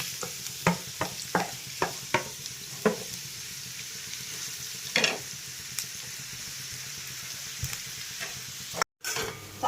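Onions and green chillies frying in hot oil, a steady sizzle with a series of sharp stirring clicks and scrapes near the start and a few later, close and moderately loud, no talking.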